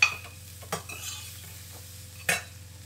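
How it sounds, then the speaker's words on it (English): Garlic and ginger with a pinch of salt saute gently in a pan, a quiet soft sizzle punctuated by a few distinct stirring scrapes and utensil knocks, with no talking. "Along with the garlic and ginger. Pinch of salt. We're just going to saute these ever so gently."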